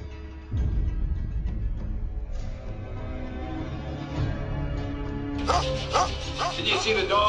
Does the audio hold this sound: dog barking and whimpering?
yes